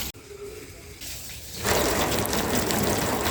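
Water gushes onto a car during a wash in Nepal, starting as a softer spray and then bursting into a loud, steady close rush that fills the rest of the stretch, with no speech over it.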